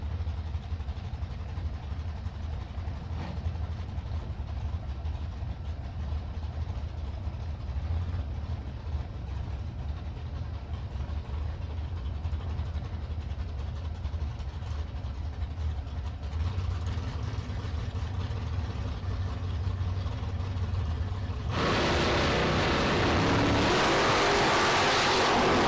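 Drag race cars, a Roadster in the left lane and a Camaro in the right, sit idling at the line with a steady low engine rumble, then surge into a loud, broadband launch roar near the end.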